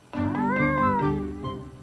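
A house cat gives one long, close, drawn-out meow that rises and then falls away, heard alone without talk.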